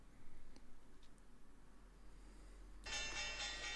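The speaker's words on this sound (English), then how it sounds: "All right, that's the bell. What a bell it is." A stock market opening bell rings out loud and sustained near the end, after faint background noise and a few soft clicks.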